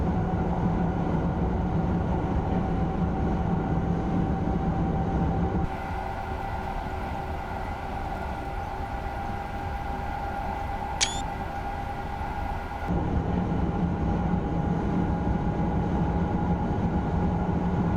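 A TGV Reseau high-speed train running at speed in Train Sim World 2021, a steady loud rumble and hum with a tonal whine, the sound dropping in character midway and returning, with a brief high chirp.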